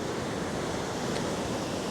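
Flood water surging in waves against a mass of floating plastic debris, including bottles and palm fronds, in Chiang Mai; a steady, dense wash of moving water sounds loud and close throughout, with no talk.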